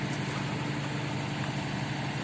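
A Dongfeng 304 tractor's engine idles nearby with a steady, even low rumble and a faint hum, no voices.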